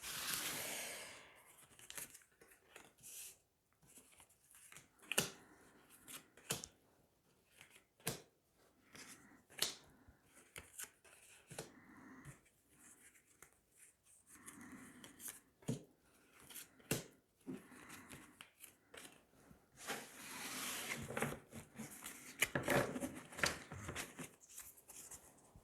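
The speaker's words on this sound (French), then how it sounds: "on va tirer 9 cartes pour éclairer tout ça" Tarot cards being shuffled and drawn, soft scattered snaps and slides of card stock in quick irregular bursts, close and quiet, with a denser flurry of shuffling near the end and no speech.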